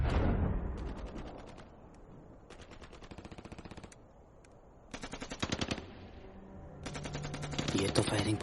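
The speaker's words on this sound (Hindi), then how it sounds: "ये तो फायरिंग बहुत नजदीक से हो रही है।" Bursts of close-range automatic gunfire in a Hindi war film, several rapid rattling volleys separated by short pauses, with quieter rumble between them.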